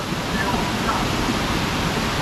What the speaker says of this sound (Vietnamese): Nước, thác nước chảy ào ạt.